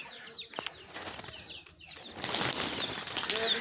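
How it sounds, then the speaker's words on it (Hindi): Rapid flurries of wing flaps from pigeons taking off and flying nearby, the fluttering growing louder and denser toward the end. "के लिए ये वाले कबूतर उड़ा रहे हैं।"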